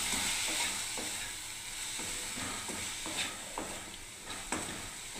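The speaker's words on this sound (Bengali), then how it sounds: "ব্যাস, এবার আমি নাড়তে থাকবো," A wok of food frying with salt and turmeric, sizzling steadily while a spatula stirs it, with close scrapes and taps against the metal, and no talking.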